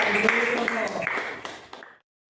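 Pupils in a classroom clap hands together, a fairly soft burst of scattered claps mixed with voices that fades and stops abruptly.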